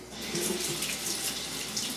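Cold water runs steadily from a bathroom tap during a wet shave, a continuous close splashing stream that fills the whole stretch with no talk over it.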